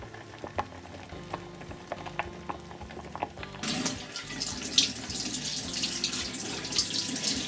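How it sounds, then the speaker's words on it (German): Running tap water splashes as a trout is rinsed under the faucet, quiet clinks and handling at first, then a sudden steady gush of water that continues to the end. "Den Fisch unter fließendem Wasser abwaschen und anschließend mit Küchenpapier trocken tupfen."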